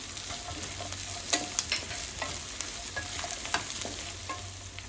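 Onions frying in a pan while being stirred, a soft, steady sizzle with scattered light clicks and scrapes of a spatula against the pan, fairly quiet and close, with no voices.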